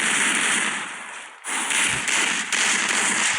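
A flashbang grenade goes off in a shooter video game, a sharp loud crack followed by a dip to near silence and then a ringing hiss, with a couple of lighter taps afterward.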